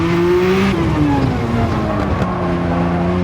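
A Lamborghini Countach QVX engine in the racing game Machine Head Racing, loud and close, dropping in pitch in several quick steps as the car downshifts through the gears, then droning steadily.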